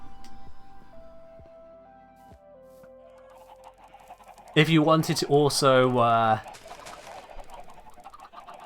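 Chickens cluck in a Minecraft chicken farm, a soft game sound effect that repeats through the clip; someone talks over it partway through.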